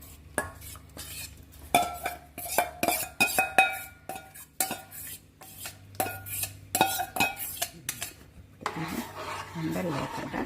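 A spoon stirs rice flour and sago batter in a bowl, giving repeated close scraping and clinking strokes in an irregular rhythm, with brief pauses and some soft rustling toward the end.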